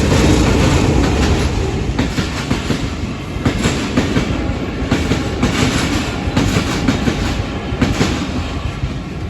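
A commuter train on the Chapainawabganj to Rajshahi line rumbles along its rails with a loud, steady roar and rhythmic wheel clatter. The noise runs continuously and fills the whole clip, with no talk.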